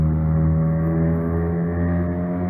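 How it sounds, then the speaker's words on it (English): Loud, close car engine with deep, steady harmonic roar, sustained revving that holds strong for the whole stretch with slight dips, no talking over it. "Man, that loud ass fucking car."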